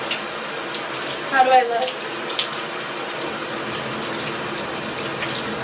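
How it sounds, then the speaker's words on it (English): Shower water streams continuously while shampoo is rinsed out of long, thick hair, a steady hiss with a brief splashy surge partway through as someone speaks over it. "I'm gonna wash down my shampoo"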